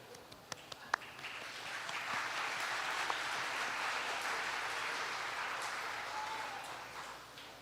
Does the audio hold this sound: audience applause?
yes